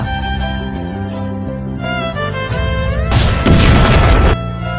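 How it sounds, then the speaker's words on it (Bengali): A large firecracker bomb goes off with a loud, roughly one-second blast, heard under steady background music that plays throughout. "এর থেকে বড় বম ফুটাবো এবার"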